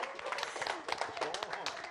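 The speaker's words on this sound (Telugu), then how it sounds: "ఒక్కసారి గట్టిగా చప్పట్లు." An audience at a film pre-release event claps loudly in a dense burst of applause that runs throughout.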